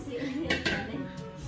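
A wok being handled in a home kitchen, with a few close metallic clinks and knocks of cookware over a steady background. Faint voices can be heard talking.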